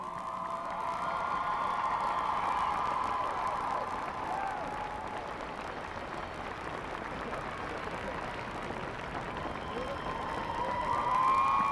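A stadium crowd at a 2009 Class A state high school football championship applauds and cheers steadily throughout, a broad wash of clapping with a public-address voice ringing over it.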